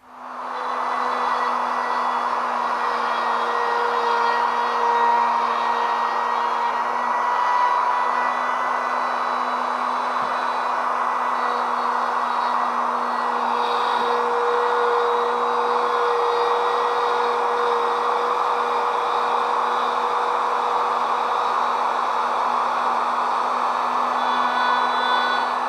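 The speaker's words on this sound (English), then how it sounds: "as long as I'm careful, as I'm feeding my router, when I reach that mark, I can stop and withdraw" A router mounted in an MPOWER CRB7 combination base cuts flutes into a wooden post, a loud, steady high-pitched whine running continuously at close range with no speech.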